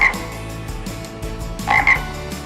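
Frog croaking nearby in a few loud, rough, rattling bursts with a short pause between them, clear and alone with no talking.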